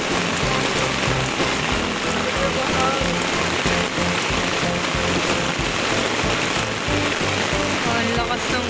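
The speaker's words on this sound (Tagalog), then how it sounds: "Oh, ang lakas ng ulan." Heavy rain pounds steadily on a surface, a dense, loud, unbroken wash of noise with voices talking faintly underneath.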